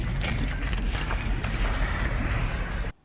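A harsh, raspy Closer monster noise from Silent Hill 3 rasps continuously for about three seconds, then cuts off abruptly.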